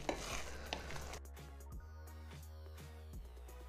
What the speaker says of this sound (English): I'm to just mix it really well